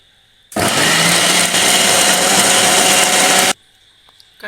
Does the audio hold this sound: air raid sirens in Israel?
no